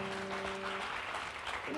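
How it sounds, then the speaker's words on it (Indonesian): A church congregation at a Sunday worship service claps together in a steady, continuous wash of applause, with faint tones running underneath. "Tepuk tangan buat Tuhan kita."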